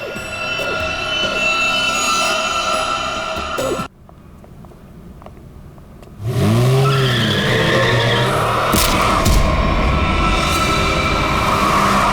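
A recklessly driven car skids with loud tire squeals and engine roar, then goes quiet for a couple of seconds before returning with swooping screeching tires and revving close by.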